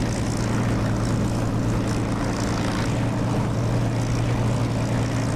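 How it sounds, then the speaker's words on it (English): A Supermarine Spitfire piston engine in the DCS flight simulator game roars continuously with a steady, throbbing propeller drone, loud and unbroken, with no talk. "I'm using the Echo 19 Spitfire engine sound. It's better than the DCS one, definitely"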